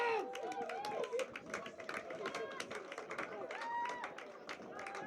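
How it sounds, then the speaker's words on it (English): A Nova Scotia crowd at a women's football quarter-final of the Canada Games cheers and claps. The noise is a busy, fairly distant swell of voices and scattered claps, with some whistle-like cries, running under a commentator's voice. "The Nova Scotia crowd absolutely loving it."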